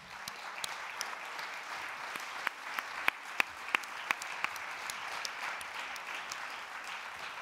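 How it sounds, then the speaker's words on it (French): An audience applauds guests at a theatre season presentation, a moderate, steady wash of clapping with a few sharp, close individual claps standing out. "On peut les applaudir."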